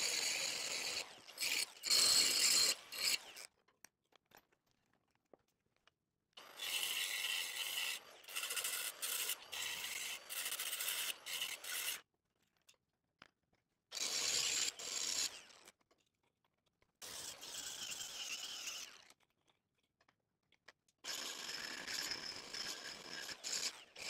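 A power buffing tool grinds away at a bad weld in several long, loud bursts, each lasting a few seconds and separated by short silences.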